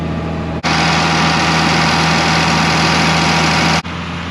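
Steady, loud diesel tractor engine drone heard from inside the enclosed cab, a continuous low hum with a constant tone and even rumble throughout, briefly dipping at the start and end, with no talking.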